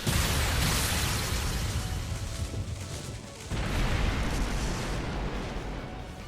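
Buster Lance optical weapon firing in the video game Trails Through Daybreak: a loud, roaring, sustained blast that dips briefly midway, then surges again and holds, dense and rumbling.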